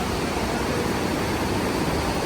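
Steady, dense rush of water fills the clip, a constant broadband roar with no pauses, like a swollen river flowing nearby, near Gangotri in the Himalayas.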